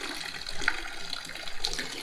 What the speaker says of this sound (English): Fountain number 2.